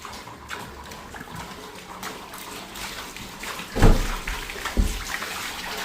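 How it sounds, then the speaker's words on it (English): Water leaks from the ceiling and runs down walls indoors, running and splashing steadily, with two sharper splashy bursts near the end, like drips or a stream hitting a surface. "Water from the top, dripping."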